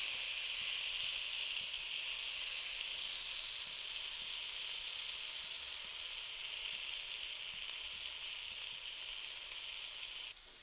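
Steady, loud sizzling hiss of plant-based meat cooking on a hot grill, continuous and close, with no talking.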